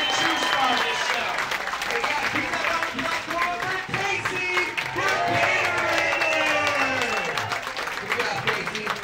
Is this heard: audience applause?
yes